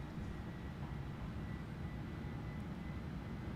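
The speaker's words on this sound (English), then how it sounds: "Really struggling to keep the plane straight." An Airbus A310 in Microsoft Flight Simulator lands in a crosswind, its engines a steady, broad low roar that sits close and continuous throughout.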